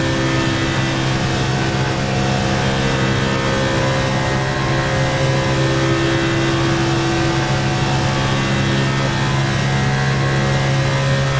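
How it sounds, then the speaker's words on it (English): A NASCAR Cup race car engine in the iRacing sim at Talladega drones loudly and continuously as it builds speed while drafting, with no talking over it. "Listen to that engine ramp up as I get in the draft here."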